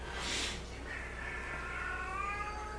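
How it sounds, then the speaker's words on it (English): A cat lets out a drawn-out, wavering yowl, rising and bending in pitch over a steady low background hum, with a brief noisy burst at the start. "That screaming noise is my cat Stella."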